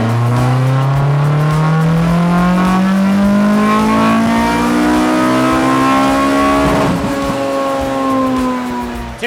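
A Honda Civic race car's engine revs hard on a dyno, one long loud sweep rising steadily in pitch before cutting off near the end, with no voices.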